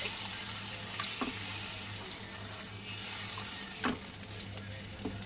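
Water poured into a pan of fried fish sets off a steady, fairly loud sizzle and hiss, with a few sharp clinks and scrapes of stirring along the way.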